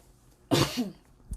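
A single sharp, close cough from a woman bursts out, followed by a brief throat sound and a faint low thump, with near silence around it.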